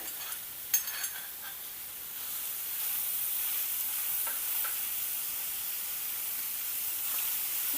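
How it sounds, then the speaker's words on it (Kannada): Chopped ridge gourd fries in oil in a pan over a medium flame, giving a constant close sizzle and hiss with a couple of brief stirring clicks near the start and faint scrapes later. "ಈಗ ಮೀಡಿಯಮ್ ಉರಿ ಇಟ್ಕೊಂಡು ಜಸ್ಟ್ ಒಂದು ಐದು ನಿಮಿಷ ಹುರ್ಕೋಬೇಕು ಬೇಗ ಸಾಫ್ಟ್ ಆಗಿಬಿಡ್ತಾವೆ ಹೀರೆಕಾಯಿ"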